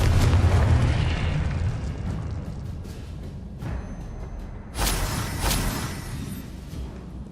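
Confringo fire spell in Hogwarts Legacy, a rumbling explosive burst at the start that decays into crackling noise, followed by two sharper blasts near the end, with no speech.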